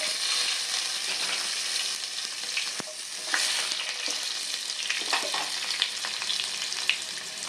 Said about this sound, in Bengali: আমি এবার আলুটা ভেজে নেব।